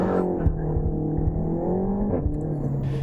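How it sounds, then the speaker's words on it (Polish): Renault Megane R.S. TCe 300 exhaust giving a throaty, steady roar with a strong low drone, broken by a few brief sharp pops, heard close and alone. "Jest fajne, takie gardłowe ryczenie,"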